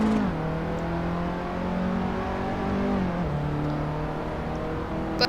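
A race car engine in Assetto Corsa drones steadily throughout. The pitch shifts up and down slightly as the engine revs on a lap, loud and close, with no talking over it.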